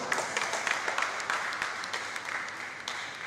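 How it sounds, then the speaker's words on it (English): Applause from an audience at a pest control association panel in Nigeria, a continuous wash of many hands clapping, fairly even with slight swells, heard from within the room. "Please, let's give me a round of applause one more time."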